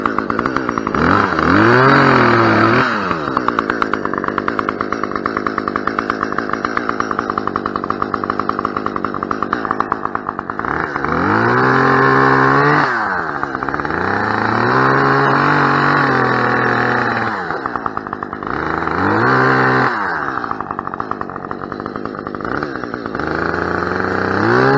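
A chainsaw cutting out dead wood runs close and loud, its engine revving up and down repeatedly as it bites and eases off, with no talk over it.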